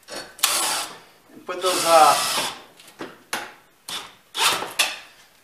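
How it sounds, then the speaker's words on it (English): Screws are driven back into a garage door track during a roller replacement, heard as short, sharp whirring bursts from a power driver close to the recorder. A person speaks between the bursts. "Put those screws back in."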